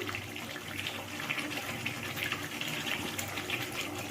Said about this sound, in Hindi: तो चलिए अब हम इसमें पानी डालेंगे।